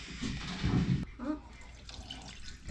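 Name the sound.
water being added for baking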